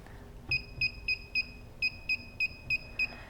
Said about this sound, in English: that's the beeping you hear. Just so you know each time you turn it up